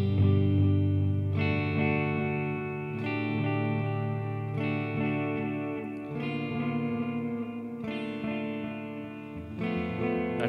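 A made-up guitar chord strummed through a Boss Katana MkII amp on its Roland DC-30 chorus-echo model, several full strums ringing out with wide, swirling modulation and trailing repeats, loud and close with no voices.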